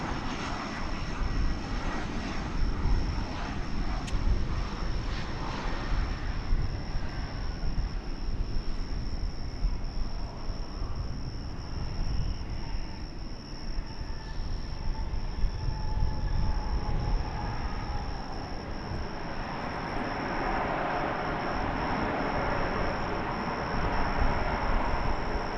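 A large airliner lands on runway 18 right at DFW Airport: a steady, loud roar of jet engines and rushing air that holds for the whole stretch and swells slightly near the end, with no voices.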